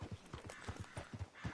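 Horse hooves clip-clop steadily in Red Dead Redemption 2 as a rider arrives in town, a close, even rhythm of about a dozen soft strikes with no talk over them.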